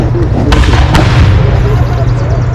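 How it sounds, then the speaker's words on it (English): Cannon fire at a Battle of Alamance reenactment, heard as dense booming rumble with a couple of sharp reports early on, loud and continuous under crowd noise. "We've seen these cannons go off for 5 minutes so far."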